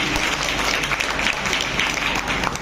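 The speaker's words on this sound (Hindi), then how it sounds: "आप स्वागत करिए तालियों से" Audience in a school hall applauding to welcome a teacher at a Teacher's Day honoring ceremony; dense, steady clapping for a few seconds with murmured voices underneath.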